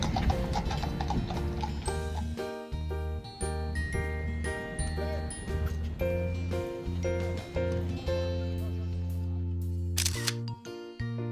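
Hooves of London police horses clip-clop along a street in crisp, irregular clicks, largely buried under loud music with sustained tones.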